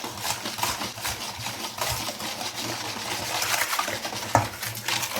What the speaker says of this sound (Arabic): كتبقاو تحركوا هادشي مزيان حتى يدير، حتى تذوب سنيده